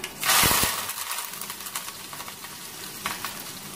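Neem flowers and curry leaves hit hot oil in a pan with a loud burst of sizzling that fades to a steady crackle, with light clinks of a utensil against the pan.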